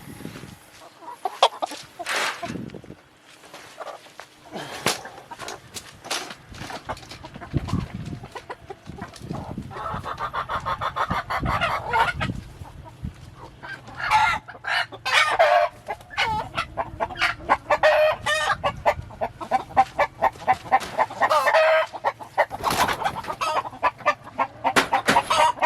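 Black chickens of a medium-sized breed cluck inside a poultry transport crate, bursts of close, busy clucking with an occasional crow, quieter at first and building to a steady, dense chatter, no voices.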